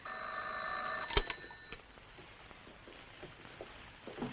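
An old telephone rings in a room with a steady electric bell trill that cuts off abruptly as the receiver is lifted, followed by faint handling clatter and quiet room noise.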